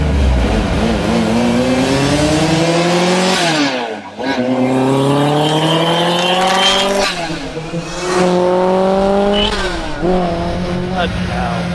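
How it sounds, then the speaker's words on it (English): A supercharged four-cylinder engine in a Lancia Rally 037 Group B restomod revs hard through rising, buzzing pulls with brief lifts between them, loud and close from inside the car, with a voice speaking over it. "It's the strangest sounding car with four cylinders out there, I would say, because of that mad induction."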